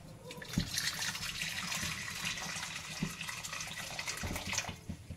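Hot water pours into a pot on a gas stove, a steady faint splashing and gurgling stream with a few soft knocks.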